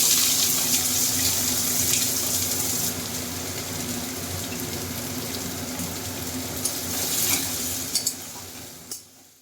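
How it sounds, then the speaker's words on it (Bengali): Chopped onion frying in oil in a pan, a dense continuous sizzle close by, with a couple of sharp utensil knocks near the end as it is stirred. "এবার আমি এর মধ্যে এই পেঁয়াজ কচিটা দিয়ে দিচ্ছি"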